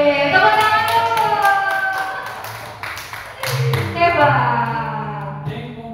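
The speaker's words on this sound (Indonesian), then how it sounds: "Tepuk tangan dulu" A class of students claps together in a classroom, a rhythmic run of sharp hand claps lasting several seconds, with voices chattering beneath.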